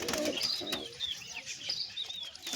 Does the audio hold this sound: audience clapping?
no